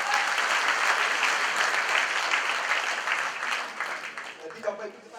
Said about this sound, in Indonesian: Tepuk tangan bagi Tuhan Yesus.